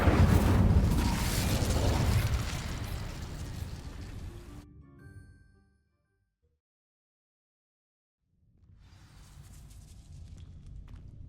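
A fire spell bursting into flame across dry vines in the Hogwarts Legacy video game: a loud roaring, crackling whoosh that fades over several seconds into silence, followed by a quieter rumble of game ambience.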